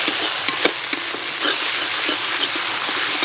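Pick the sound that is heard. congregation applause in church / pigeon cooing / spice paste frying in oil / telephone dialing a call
spice paste frying in oil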